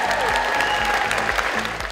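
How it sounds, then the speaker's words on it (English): An audience at the Irving Convention Center breaks into steady, full applause that carries on evenly from close by. "Let's hear it for Albert, everyone"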